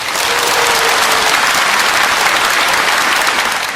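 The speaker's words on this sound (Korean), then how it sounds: "박수!" Dense, loud, continuous applause from a crowd at a university equine studies freshman orientation, a steady roar of many hands clapping with no break.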